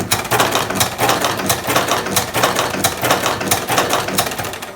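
A Sisamak AR50 cigarette rolling machine running at full speed, with loud, dense mechanical clatter and rapid rhythmic ticking that stays constant from start to finish and sits close to the listener, with no voices.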